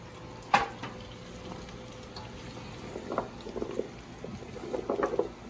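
Vegetables being dropped into a pot of caldo de albóndigas soup, a few separate plops and clunks, one sharp one early then several softer splashes, over a quiet background hiss.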